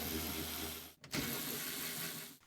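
A hand ratchet clicks steadily while undoing the 10 mm window motor bolts inside a 2009-2013 Subaru Forester front door, fairly faint and close, with one short pause partway through.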